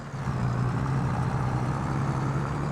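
A tractor engine idling in the video game Farming Simulator 25, a steady low-pitched diesel hum that holds evenly and close, with no talk.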